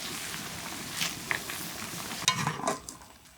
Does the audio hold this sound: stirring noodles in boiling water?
yes